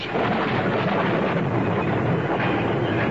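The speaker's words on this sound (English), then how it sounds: "Yes, it was thunder." Loud thunder sound effect in a radio drama: one sustained, dense rumble rolls on steadily for the whole stretch, with no voices over it.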